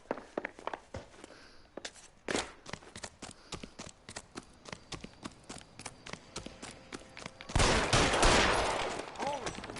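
Gunfire in L.A. Noire, a police shootout in the game: scattered sharp reports spread through the scene, then a loud sustained burst near the end, with voices talking in between.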